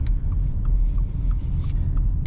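A 2021 Subaru Outback pulls ahead under throttle on the road, a low continuous rumble of engine and tyres heard from inside the cabin, moderate and steady with faint ticking above it.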